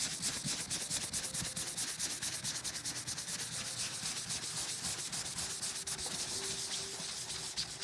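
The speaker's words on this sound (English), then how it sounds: "Make sure you're using a soft cloth, and if there's any wax that starts to build up in the spot where you've been rubbing" Soft cloth rubbing and buffing wax across a waxed watercolor painting, a steady close scrubbing swish with rapid back-and-forth strokes, continuous throughout with no voices.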